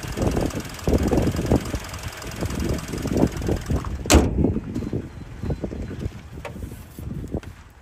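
The 3.3 liter six-cylinder engine of a 2004 Toyota Sienna LE runs in a steady, rough, fairly loud rumble with a brief sharp knock partway through.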